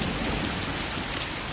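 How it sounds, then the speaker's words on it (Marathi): Heavy rain from a children's song, a dense steady downpour with a thunderstorm rumble, constant and loud throughout with no talking. "काय करतो मी आता बघ, पाऊस पडला जोरात मग."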